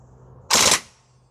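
A single sharp report from a Northeast Airsoft Mini UZI gas blowback gun fired on semi-auto: one loud, close, short burst of gas and action that decays quickly into quiet.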